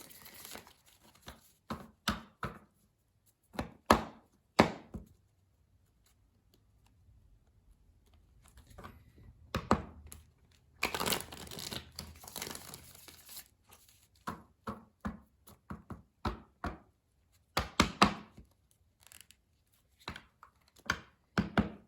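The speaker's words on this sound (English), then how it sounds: "I'm doing live shuffle today because I did not really pre-shuffle before I started" Tarot cards are shuffled by hand in a quiet room: a soft, irregular series of riffling, flicking and tapping bursts with short pauses between them, close to the mic and without speech.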